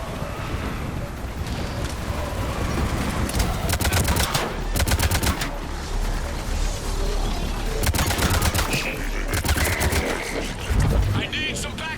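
Rapid automatic gunfire and bursts of shooting in the sci-fi shooter Mass Effect 3, loud repeated volleys coming in clusters over a combat soundscape, with radio voices talking between bursts.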